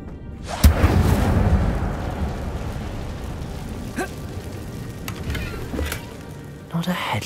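Fiery burst of the Incendio spell in Hogwarts Legacy, a loud whooshing blast that flares up and trails off into a roaring crackle, followed by softer game effects and a few sharp hits, no talk over it.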